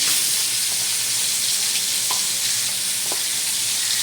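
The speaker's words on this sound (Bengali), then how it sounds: "চিংড়ি মাছ ভাজছি" Prawns fry in hot oil with a dense, continuous sizzle, loud and close throughout, and a couple of brief stirring clicks.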